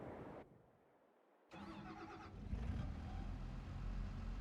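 A tractor engine in Farming Simulator 22, with a baler hooked up, drops to a low hum for about a second, then returns and swells into a steady, loud diesel drone.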